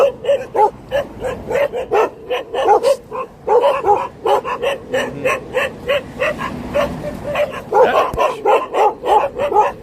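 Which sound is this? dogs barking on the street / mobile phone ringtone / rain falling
dogs barking on the street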